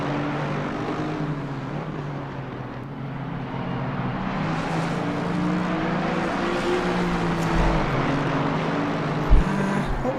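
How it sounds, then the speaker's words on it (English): Aston Martin GT3 race car in Assetto Corsa Competizione, its engine droning and shifting pitch as it is thrown through a chicane, a continuous mid-level roar with a sharp blip near the end. "Hederman throwing the Aston Martin through the chicane"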